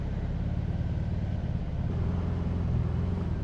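A BMW R18 Transcontinental motorcycle on a ride, its big engine giving a steady, deep low rumble that holds evenly throughout.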